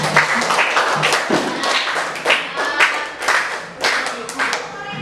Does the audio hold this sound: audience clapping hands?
yes